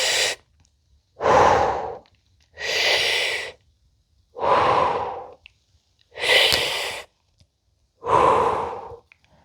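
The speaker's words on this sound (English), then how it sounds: "Take deep breaths." A person takes deep breaths during slow fascial stretching movements: six long, loud inhale-exhale pushes separated by short silences, close to the microphone, with no speech.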